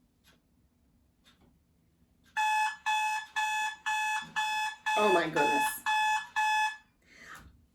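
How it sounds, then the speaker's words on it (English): A loud electronic alarm clock goes off in a rapid run of about eight sharp, evenly spaced beeps, and a person exclaims partway through. "That's my alarm clock going off."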